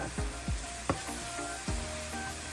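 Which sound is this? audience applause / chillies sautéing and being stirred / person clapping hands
chillies sautéing and being stirred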